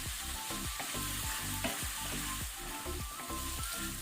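Shrimps fry in a pan with a loud, continuous sizzle, layered with rhythmic stirring scrapes and clinks at a steady pace throughout.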